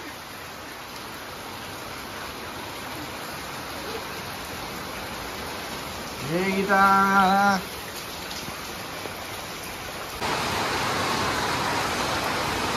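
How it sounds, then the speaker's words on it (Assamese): Heavy rain falls outside as a steady, dense hiss throughout, with a brief tonal call rising midway and the downpour swelling louder near the end. "বাহিৰত তামাম বৰষুণ দি আছে।"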